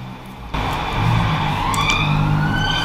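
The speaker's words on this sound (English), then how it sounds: "And there's a siren." A siren rises over steady traffic rumble, its wail sweeping upward as the vehicle draws close; no voices.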